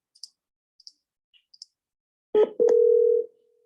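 A telephone call going unanswered: a few faint clicks, then a short tone burst and a longer steady ringback tone, isolated and clear with no voice.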